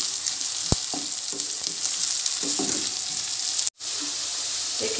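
Onion and garlic fry in a pan of oil for a tomato onion karahi, a steady loud sizzle with occasional stirring clinks and taps and a brief dropout near the end.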